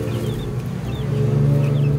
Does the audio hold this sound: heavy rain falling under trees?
no